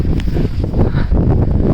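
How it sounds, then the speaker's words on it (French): Strong wind buffets the microphone on a rainy outdoor walk, a steady loud roar with no break. "il y a beaucoup de vent"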